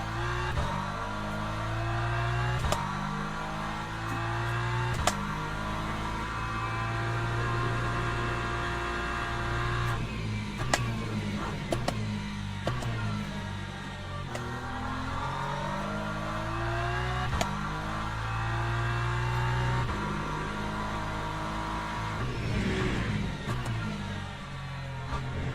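Race car engine in the Le Mans Ultimate sim during a tyre-warming lap, droning loudly and steadily with repeated rises and falls in pitch through gear changes, continuous throughout without talk.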